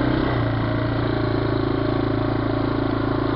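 A Yamaha 200E four-wheeler engine running loud and close in wet snow, a steady mid-pitched drone with a slight rise at the start.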